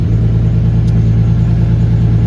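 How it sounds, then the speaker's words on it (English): A steady, low engine idle from a turbocharged BMW E36 with a full stainless exhaust and aftermarket muffler, deep, throaty exhaust drone, constant and close, with no revving. "I was really hoping that that muffler wasn't going to sound too bad."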